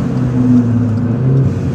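Volkswagen Polo engine pulling steadily under acceleration from inside the cabin, a loud, continuous hum with slowly shifting pitch over under two seconds, no talk.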